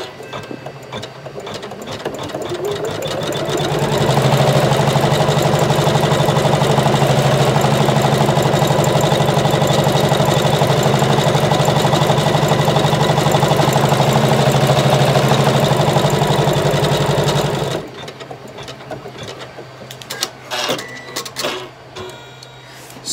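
An embroidery machine stitching an in-the-hoop appliqué, running a satin stitch around the edge of the fabric piece: a steady, loud, rapid mechanical whirring that builds up, runs continuously, then stops, followed by quieter handling clicks.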